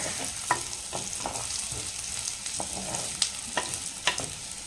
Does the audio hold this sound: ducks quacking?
no